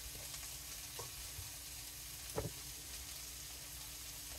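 Tuna frying in a pan, a quiet continuous sizzle with a single brief scrape of stirring near the middle.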